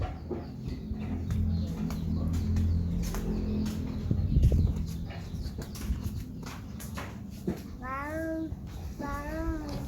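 A cat meows twice near the end, clear and fairly close, after a stretch of faint outdoor noise and scattered clicks.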